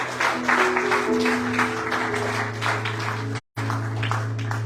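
Church congregation clapping strongly in praise of God, a sustained rattle of many hands over a low held musical drone, with a brief dropout near the end.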